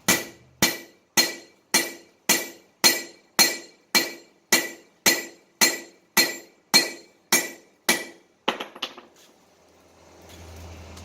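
Steady hammer blows ring out on a steel chef knife blade being forged, about fourteen evenly spaced strikes, each with a bright metallic clang, followed by a few scraping clinks.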